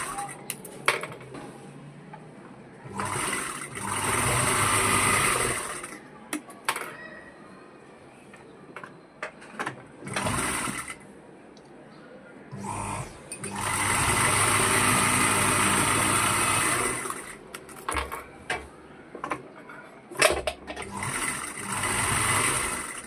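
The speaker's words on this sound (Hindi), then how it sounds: "इसको भी फ्रंट को हमको सिल लेना है इसे।" Sewing machine stitching the front of a simple kurti after the neckline and shoulder seams, running in several sustained whirring bursts separated by pauses, with someone talking in between.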